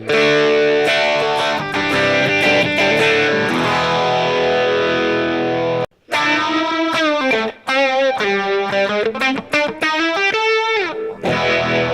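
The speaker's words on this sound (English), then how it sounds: "A really awesome sound that you've probably heard a lot is a pedal phaser before a distortion." An electric guitar runs through a phaser pedal placed before distortion, giving sustained, overdriven lead notes with a sweeping, swirling tone, loud and alone, with brief pauses between phrases.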